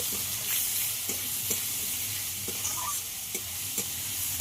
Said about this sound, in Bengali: সেটাকে পেঁয়াজটাকে একটু ব্রাউন করে ভেজে নেব।